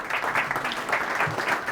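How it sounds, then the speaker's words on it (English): An audience applauds at the close of a crypto presentation by the CEO of Coinpass, with steady, dense clapping of moderate loudness filling the short moment. "So please give yourself a round of applause."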